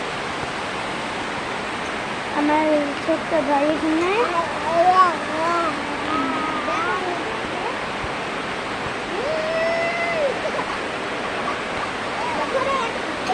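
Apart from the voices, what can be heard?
heavy rain falling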